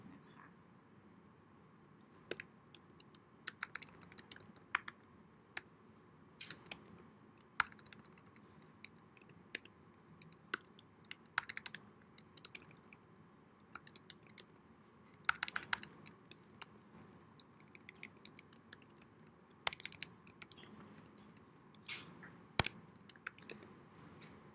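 Code being typed on a computer keyboard: scattered, irregular key clicks with short bursts and pauses, close and fairly quiet over a faint steady room hum, with no talking.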